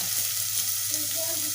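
Oil sizzles in a pan before the onions go in, a close, steady hiss with a faint crackle running the whole time and no one speaking.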